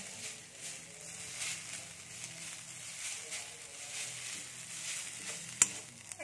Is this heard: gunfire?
no